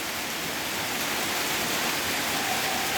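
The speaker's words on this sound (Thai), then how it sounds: "ฝนตกทั้งคืนเลยครับ" Heavy rain falling steadily through a night into morning, a dense, even hiss with no break or change, close and fairly loud, with no voices.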